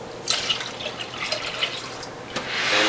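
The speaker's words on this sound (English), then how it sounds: "So I'm going to pour this into the collection bowl." Freshly pressed anti-inflammatory juice pours from a beaker into a collection bowl with close, splashy trickling and dripping that swells into a steadier stream at the end.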